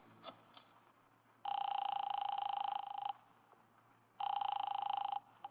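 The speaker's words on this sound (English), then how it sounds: "I grabbed the office phone and dialed Wolfe at once" Telephone dialing tones from a radio drama sound effect, two long steady tone bursts with a pause between them, fairly loud over a quiet background hum.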